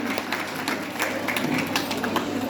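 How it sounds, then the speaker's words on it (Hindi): Audience applause at an alumnae association's annual meet, a dense, steady wash of many hands clapping together, loud and continuous throughout with a crowd murmur underneath. "तालियां बजा दीजिए"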